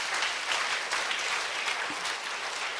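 A church congregation applauds in praise during a sermon, a sustained, fairly soft patter of many hands clapping with slight swells, heard from within the room.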